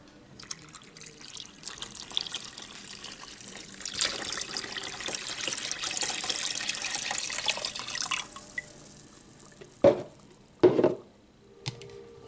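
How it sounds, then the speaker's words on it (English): Apple juice pours steadily into a pot for apple pie filling, a close continuous trickling splash lasting several seconds, followed by a few brief clunks and drips. "now I'm going to add the apple juice"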